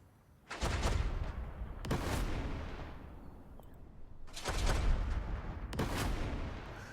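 Heavy tank cannon fire in the WW2 strategy game Total Tank Generals during an attack on an enemy tank: several loud, booming shots with long rumbling tails, spaced a few seconds apart, with no talk.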